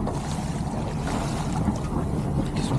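A sailboat under sail with a little engine running along the English south coast in light winds, a steady low engine drone mixed with water rush and wind noise, continuous and close, with no talk.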